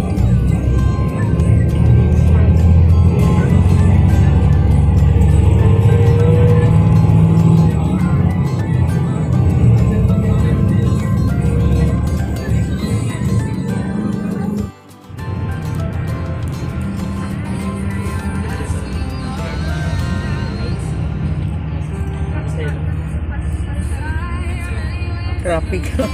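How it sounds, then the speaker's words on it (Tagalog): Road traffic on a trip to Baguio: a continuous rumble of vehicles passing nearby, loud and dense, with a brief dropout midway before the steady traffic noise resumes, voices mixed in. "traffic."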